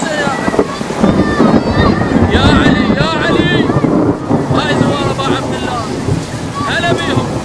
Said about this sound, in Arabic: عاصفة جدا قوية